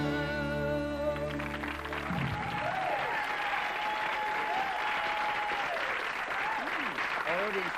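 A studio audience at a televised talent show applauds and cheers loudly after a sung performance, a dense continuous wash of clapping that begins as the last sustained note fades and carries on strongly to the end.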